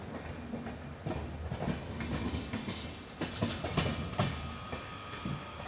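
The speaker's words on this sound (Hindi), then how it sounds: "और अभी पुणे जंक्शन में एंटर करने जा रही है सिकंदराबाद पुणे शताब्दी एक्सप्रेस" Secunderabad–Pune Shatabdi Express rolling into Pune Junction: rhythmic clickety-clack of wheels over rail joints with a steady rumbling hiss, fairly faint and continuous.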